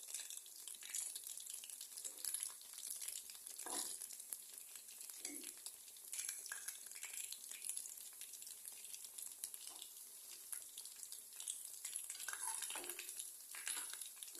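Quiet, continuous sizzle of chicken pakora pieces frying in oil, with faint bubbling and occasional soft scrapes of a utensil.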